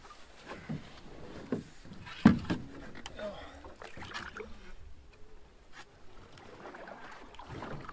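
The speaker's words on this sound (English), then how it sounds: "Just a short paddle to our first portage." A canoe is paddled across a Canadian wilderness lake, with soft water swishes and drips from the strokes, a sharper knock partway through, and light wind noise, all fairly quiet.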